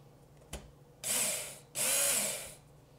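Work Sharp knife sharpener running an 80 grit belt, two close grinding passes of about half a second each after a small click, quiet in between.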